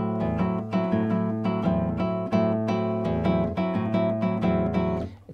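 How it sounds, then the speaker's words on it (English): Classical guitar playing the opening bars of Jorge Morel's Danza Brasilera with a syncopated samba feel, steady plucked bass notes under rhythmic chords, close and clear with no talking. "we set up this samba feel in the first four bars"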